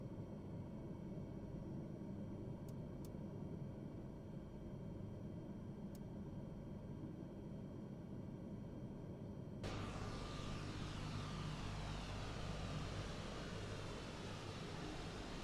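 In Microsoft Flight Simulator, engine 3 of a C-130 Hercules spools up: a steady whooshing cockpit drone, then a sudden jump into a fuller turbine roar with a rising whine that holds to the end.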